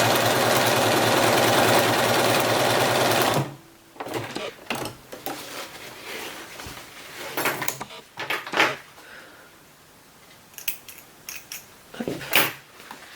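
A sewing machine stitching smocking rows with elastic thread runs steadily and loudly for about three and a half seconds, then stops, leaving brief handling clicks and rustles of fabric.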